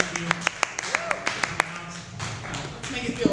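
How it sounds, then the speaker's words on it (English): Thin, scattered clapping from a small open mic crowd of about fifteen people at Camp Bar, a dozen or so separate sharp claps spread unevenly, with faint room noise between them. "give yourself a round of applause"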